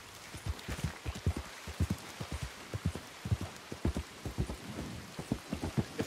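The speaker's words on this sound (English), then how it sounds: "You can tell it's raining." Rain falls in the Red Dead video game while a character rides a horse, a soft steady hiss under a run of low, rhythmic thuds like hooves, all fairly quiet with no talking.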